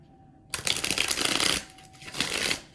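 Tarot cards being shuffled close up, heard as two quick riffling bursts of crisp flapping card sounds separated by a short pause, alone in a quiet room.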